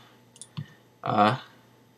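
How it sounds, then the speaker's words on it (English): A computer mouse gives two quick, sharp, close clicks in a video editing program, followed by a brief burst of voice. "You can zoom out easily by holding Alt and then just clicking"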